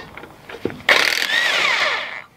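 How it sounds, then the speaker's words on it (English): A power tool whirs up briefly during a coilover install on a Mk3 Golf, a short loud burst that spins down after a couple of soft knocks. "I love power tools."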